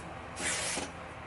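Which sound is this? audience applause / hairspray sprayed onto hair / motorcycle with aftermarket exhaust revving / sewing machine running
hairspray sprayed onto hair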